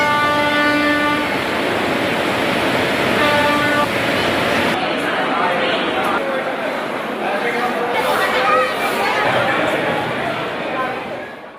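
Amrit Bharat Express passenger train moving along the track, with a steady loud rumble, harmonic horn tones early on, and passengers chattering throughout.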